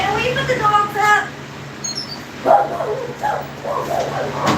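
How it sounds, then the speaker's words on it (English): Dogs bark and yip in short bursts scattered through the clip, fairly close, mixed in with light household background. "dogs are going to be like barking like crazy."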